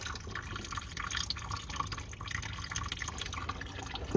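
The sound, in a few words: coolant draining and dripping from Ford Mondeo engine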